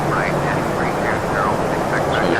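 Steady, loud engine roar of an Aerosoft Airbus A320 in Lufthansa livery descending in a flight simulator game, a continuous droning rumble with faint whining tones riding on top, heard alone without talk.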